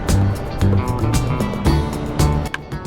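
A Royal Enfield Hunter 350 motorcycle on a paved road ride, its engine droning loud and close, with the low note rising and falling in repeated surges as the bike pulls along.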